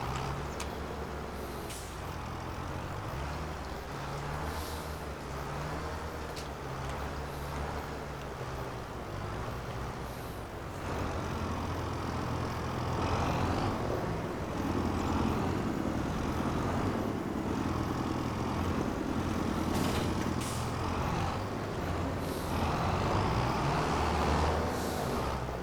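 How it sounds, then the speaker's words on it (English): A tractor engine drives steadily through a Farming Simulator 25 game session, a continuous loud drone that gets a little louder partway through, with no talking. "Do love how much smoother this tractor is to drive than the AgroStar is."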